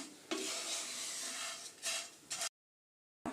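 Dry vermicelli roasting in a pan for semiya kesari, stirred with a steady scraping, rasping rub and a few louder strokes, close and alone, ending in a short silence.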